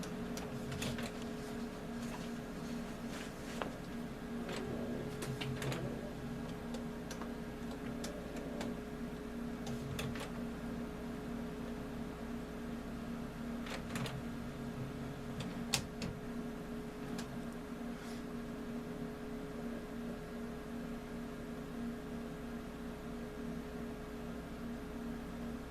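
Steady mechanical whirring with repeated clicks and brief sharp ticks, a Canon MX922 inkjet printer running continuously at close range with no voices.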